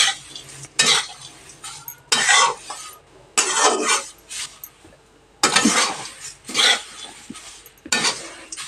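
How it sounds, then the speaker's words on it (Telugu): A spoon stirs atukulu (poha) frying in a pan, giving repeated bursts of scraping and clinking against the metal, loud and close, separated by short pauses. "జస్ట్ అట్లా కలుపుతూ ఉండాలి, లేకుంటే మాడిపోతాయి కదా అడుగుకు."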